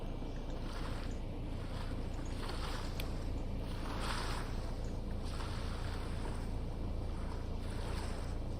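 A FlightGear seaplane taxis on water, its steady engine drone and the continuous wash of water merging into a constant, moderately quiet rumble with faint hiss, no talking.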